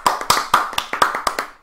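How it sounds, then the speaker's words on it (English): A few people clap briefly in a quick, uneven patter of sharp hand claps, close and fairly loud, lasting only a moment. "Round of applause, please."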